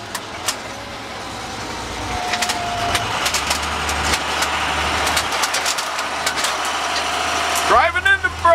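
A bread truck converted from an ice cream truck rumbles along with a steady engine drone while driving, with road noise and scattered clicks and rattles. A brief higher chirping sound comes near the end.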